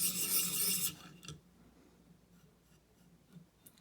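A Benchmade Mini Adamas knife blade is drawn across a 400 grit abrasive, giving one loud rasping stroke of about a second, followed by fainter scraping and light handling noises.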